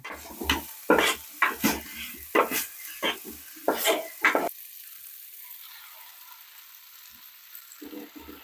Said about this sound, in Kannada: ಇವಾಗ ಇದಿಷ್ಟನ್ನು ಚೆನ್ನಾಗಿ ಫ್ರೈ ಮಾಡಿಕೊಂಡು ಆಮೇಲೆ ವಾಶ್ ಮಾಡಿ ತೆಗೆದಿಟ್ಕೊಂಡಂಥ ಮೆಂತ್ಯ ಸೊಪ್ಪನ್ನು ಹಾಕೊಳ್ಳೋಣ